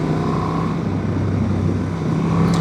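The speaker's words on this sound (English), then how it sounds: "the engine sounds smoother, sounds so nice" A 2026 Honda Transalp 750 E-Clutch motorcycle engine runs steadily nearby, a smooth continuous hum at an even pitch, loud and close with no voices.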